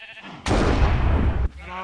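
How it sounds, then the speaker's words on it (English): A sheep in the Minecraft video game gives one loud, sustained bleat lasting about a second, standing out clearly against quieter game background sound. "Oh yes, kill the sheep!"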